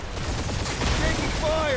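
Rapid gunfire from multiple turrets in the Guardians of the Galaxy video game, a dense continuous barrage of shots with rumbling blasts and whining tones layered over it.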